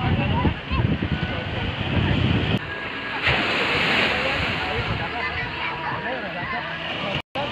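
Ocean surf rolls and breaks onto a beach, a loud wash of wind and water that swells early, then settles into a steady roar.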